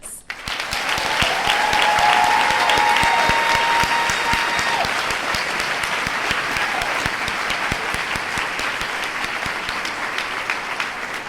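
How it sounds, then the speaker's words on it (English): Loud, sustained applause from a crowd celebrating new Emory nurses at a nursing celebration event, rising quickly to a dense clapping roar and easing slightly as it carries on. "We have to do one more final round of applause for our newest Emory nurses."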